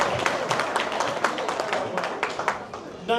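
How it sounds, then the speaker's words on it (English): Audience applause at a Paultons Park super fans day: steady dense clapping from a crowd, continuous throughout and ending in a quick sharp clap burst. "Big round of applause for the phone"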